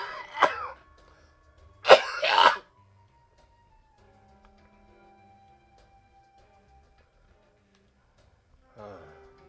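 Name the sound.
person coughing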